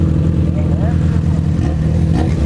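Honda Repsol-liveried 1000 cc motorcycle revving on a street, its engine note loud and close, rising and falling in quick blips over steady low rumble, with voices chattering on top.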